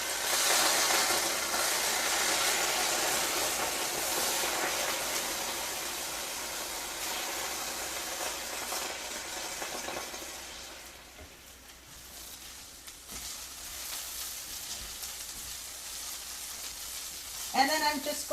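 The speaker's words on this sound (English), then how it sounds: "I'm just going to add a little bit of the broth" Broth hits Brussels sprouts searing in a hot pan, setting off a loud, close sizzle that slowly dies down over several seconds, with faint stirring and a brief clatter near the end.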